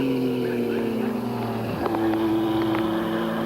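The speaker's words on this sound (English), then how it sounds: "Just listen to his down changing." A 1990 American Racing Series car at Mid-Ohio downshifts, its steady engine note dropping, then jumping higher with sharp blips between gears, loud and up close with wind noise and no voices.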